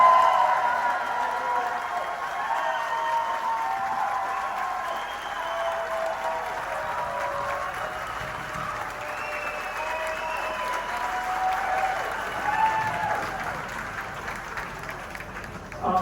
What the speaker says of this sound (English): How about a big round of applause for all these students in Brown County?